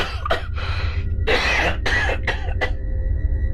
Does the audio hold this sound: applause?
no